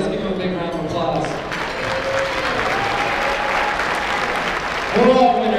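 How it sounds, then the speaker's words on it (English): A gala audience at a food bank benefit breaks into sustained applause, a dense wash of clapping from a crowded room that runs throughout, with a host's voice talking over the start and the end. "Let's give them a big round of applause."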